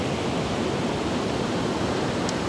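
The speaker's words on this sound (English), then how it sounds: "Check out these waves." Ocean waves break at Asilomar beach as a steady, loud, broadband roar of surf with no distinct individual crashes, continuous throughout without any voices.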